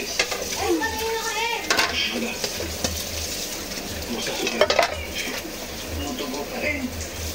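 Dishes being washed by hand in a home kitchen: clinks of plates and cutlery, scraping and running-water wash noise, steady and close, with voices talking over it now and then.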